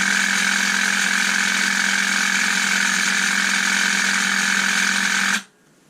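Bosch hedge trimmer converted from 14.4 V NiCd to a Li-Ion battery, its motor running with a steady, loud high-pitched whine and buzz that holds constant, then cuts off abruptly near the end.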